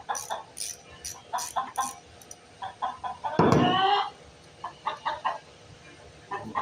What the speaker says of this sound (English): Goofy chickens, jeez.